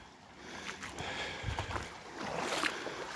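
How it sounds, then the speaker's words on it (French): A small river flowing outdoors, a steady soft rushing and gurgling of water heard alone at moderate distance. "Vous voyez, j'ai la petite rivière."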